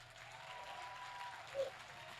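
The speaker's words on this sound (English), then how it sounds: "That's a round of applause." A round of audience applause at a community awards event in Lake Oswego, a fairly quiet, steady patter of many hands clapping for about two seconds, with no talk over it.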